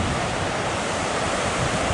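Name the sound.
waterfall coming down cliffs by Feather River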